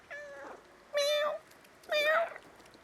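Three distinct cat meows from the video game Stray, evenly spaced and fairly clear, with quiet gaps in between and no talking.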